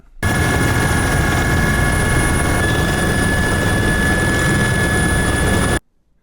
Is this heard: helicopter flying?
yes